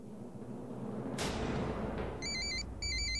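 A telephone rings indoors in a domestic drama scene, sounding two short electronic ring bursts after a swell of background music, close and clear with no talk over it.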